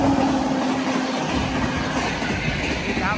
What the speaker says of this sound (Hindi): देख रहा हूँ ट्रेन आ रही है, माल गाड़ी है